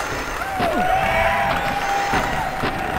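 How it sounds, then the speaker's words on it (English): Competition crowd noise from the Tony Hawk's Pro Skater prototype on PlayStation: a steady wash of cheering crowd mixed with game sounds, including a sliding grind tone and scattered clanks. "it's like the competition crowd noise"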